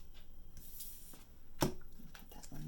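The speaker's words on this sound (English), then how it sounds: "If I can shuffle them this way, huge, huge cards." Large tarot cards are shuffled by hand close by, making a series of soft rustling and slapping bursts with one sharper snap midway. No voices are heard.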